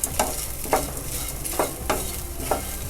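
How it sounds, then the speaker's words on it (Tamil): Raw banana kootu with coconut is stirred in a pan, a spatula scraping in regular strokes about every half second over a soft, steady sizzle, close and clear with no talking. "நல்லா கலந்து விட்டுருங்க."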